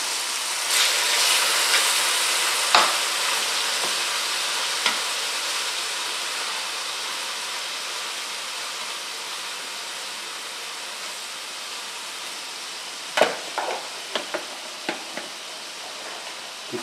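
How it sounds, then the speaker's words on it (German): Chicken breast frying in sesame oil in a pan, giving a steady, moderately loud broadband sizzle throughout with a few sharp clicks and pops near the end. "werden wir jetzt auch das Fleisch anbraten, unser Hühnchen."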